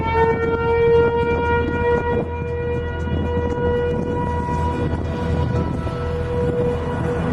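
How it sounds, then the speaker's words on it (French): A Federal Signal civil defense siren sounds a tornado warning, a steady loud wailing tone that holds and slowly shifts pitch over a broad rumbling wind-like background. "Le son que vous entendez provient d'un modulateur de signal fédéral."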